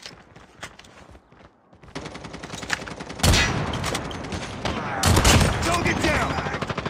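Gunfire in a Call of Duty match, dense rapid volleys that grow louder and more intense, with heavy close bursts near the middle and end of the stretch.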